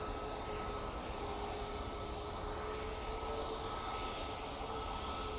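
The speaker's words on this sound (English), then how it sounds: "Going on right in front of us, using the 737 MAX 8, and they're going off to Faro." A Ryanair Boeing 737 MAX 8 departing Manchester Airport for Faro gives a steady, heavy jet roar that fills the whole stretch, with no talk.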